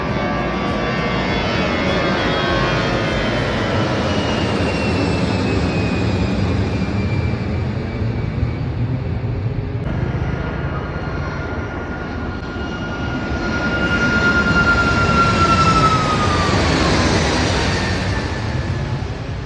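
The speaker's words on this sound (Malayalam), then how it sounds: "അപ്പോൾ ഇവിടുത്തെ നൈറ്റിലെ ടേക്ക് ഓഫിൻ്റെ കാഴ്ച ഇവിടെ നിന്ന് കാണാൻ പറ്റും" A jet airliner taking off at night near Nedumbassery airport gives a loud, sustained roar with a rising whine that swells and fades across the whole stretch, heard from nearby outdoors.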